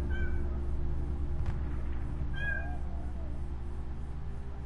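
A cat in The Walking Dead video game meows twice, two short rising calls a couple of seconds apart, over a steady low hum of background noise.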